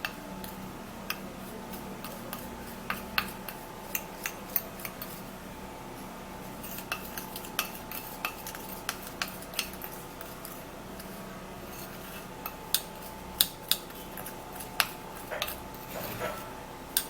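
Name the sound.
stirring baking soda into petroleum jelly in a bowl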